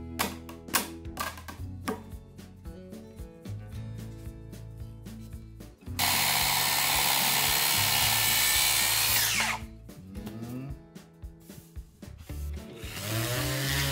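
Round-pad power sander working 200-year-old Kiso cypress timber, a steady broadband whir holding for about four seconds mid-clip, set between tonal, musical-sounding passages without talk.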